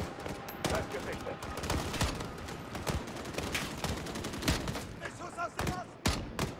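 Dense gunfire and bursts from the video game Call of Duty Modern Warfare, rapid overlapping shots and sharp cracks filling the whole stretch at steady loudness, with brief gaps near the end.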